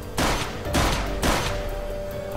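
Burst of gunfire in Minecraft at night, three loud sharp shots in quick succession ringing out against a dense, continuous game soundtrack.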